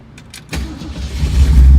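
A 1968 Ford Mustang engine cranks and fires up with a sudden low roar, then settles into a loud, rumbling idle close by.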